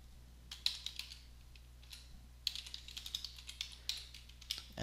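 Soft, close clicking of a computer keyboard as a name is typed, two clusters of quick uneven keystrokes separated by a short pause, quiet and alone.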